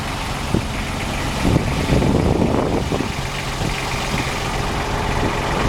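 A water truck's diesel engine idles steadily at close range, a low broadband rumble with a few brief louder bumps, and no talking.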